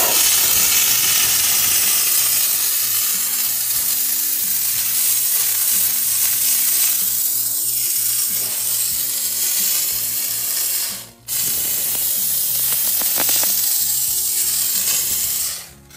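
Loud continuous hissing spray of steam from a Vapamore steam cleaner washing a car throughout, with a brief interruption near the end and faint mechanical clicking underneath.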